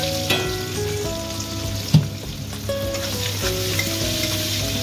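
Chopped onions with cardamom, cinnamon, cloves, bay leaf and green chillies frying in a pan, a loud, steady sizzle close up, broken by a few sharp stirring knocks and scrapes.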